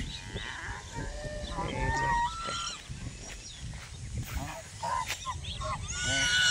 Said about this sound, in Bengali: কত সুন্দর রাজহাঁস এবং রাজহাঁসের বাচ্চা